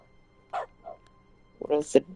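A few short dog barks and yips from the video game The Stanley Parable in its dog mode, two brief yaps followed by a louder bark, heard alone against quiet room tone.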